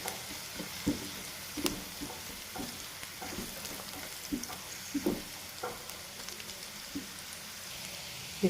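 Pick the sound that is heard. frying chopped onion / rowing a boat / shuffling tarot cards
frying chopped onion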